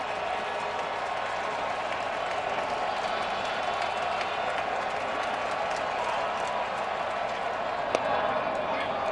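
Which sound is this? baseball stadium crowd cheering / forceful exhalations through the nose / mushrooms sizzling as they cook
baseball stadium crowd cheering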